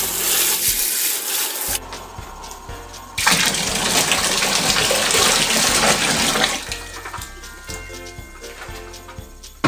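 A rag is washed under running water, with a tap gushing and splashing in bursts, loudest through the middle stretch, among nearby clatter and handling noises.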